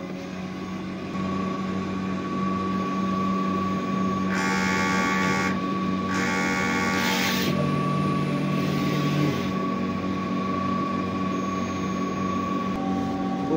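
A large-format printer running a nozzle check hums steadily and mechanically, with intermittent bursts of whirring as the print head moves back and forth.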